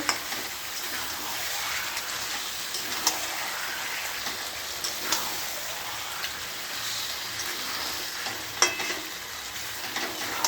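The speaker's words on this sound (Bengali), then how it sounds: "মাংসটা দিয়ে দিলাম, একটু কষে নেব" Meat searing in a hot pan while being stirred for a Bengali curry, a dense, steady crackling sizzle like heavy rain with scattered sharper pops and scrapes, close and continuous with no talk.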